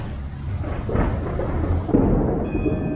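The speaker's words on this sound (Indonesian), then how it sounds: "lagi-lagi suara petir sudah mulai berkumandang" Thunder rumbles close by a house ringed with bamboo trees in Tangerang, a broad continuous low roar that swells and holds for the whole stretch, with a faint high tone creeping in near the end.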